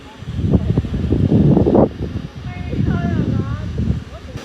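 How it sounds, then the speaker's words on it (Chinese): Gusting wind rushes across a 20-mu fruit orchard in rural Guangxi, buffeting the microphone in strong, uneven bursts while people talk nearby. "就是起风"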